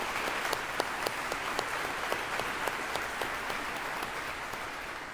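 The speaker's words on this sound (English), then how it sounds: "if our guests will join me in applauding your efforts for leading the way" An audience at a ribbon-cutting ceremony in Oxford, Alabama applauds school board members, producing a steady wash of clapping with sharper individual claps standing out, and no one talking.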